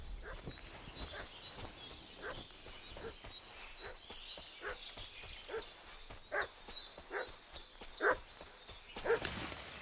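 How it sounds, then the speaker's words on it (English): A dog barks repeatedly in the video game Kingdom Come: Deliverance II, with sharp, separate barks coming in an irregular run over a quiet outdoor background. Faint footsteps or hoofbeats may be mixed in. "What's that dog making such a fuss about?"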